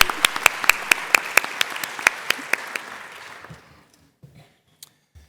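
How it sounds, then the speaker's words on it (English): Scattered claps from an audience at a staff service and recognition awards ceremony, a few sharp distinct hits over a brief wash of applause that fades out after about three seconds, leaving near silence with faint stray sounds. "Round of applause for Phyllis."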